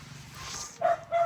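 Pet dogs barking before feeding, two loud, close barks in quick succession after a brief stretch of low background noise.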